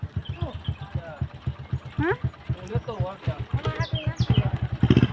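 A small scooter engine putters rhythmically as it pulls away, with people talking over it.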